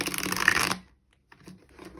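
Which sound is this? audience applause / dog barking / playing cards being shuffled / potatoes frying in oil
playing cards being shuffled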